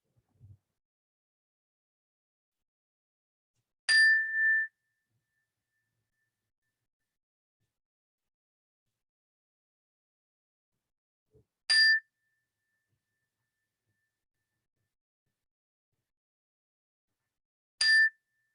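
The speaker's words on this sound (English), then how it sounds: "listen to the sound of the bell until you can't hear it any longer or until it's no longer there" A bell for a mindfulness exercise is struck three times, several seconds apart, each clear ring fading slowly into near silence.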